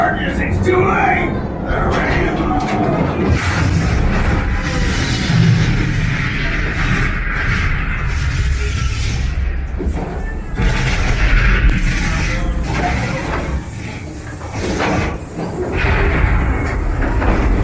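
Dynamite blasts on the Calico Mine Ride train attraction: heavy booms and rumbling mixed with rolling train noise and loud voices, continuous and close throughout.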